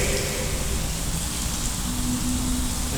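Water sprays steadily onto car wash tile, a dense, even hiss of rinsing that holds at close range without a break, with no voices.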